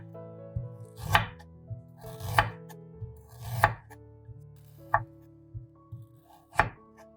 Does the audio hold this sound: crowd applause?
no